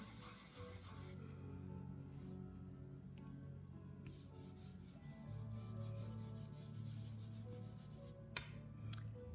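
Red paint is sanded by hand on a painting, giving a continuous close rubbing and rasping with a steady low drone and occasional sharper scrapes.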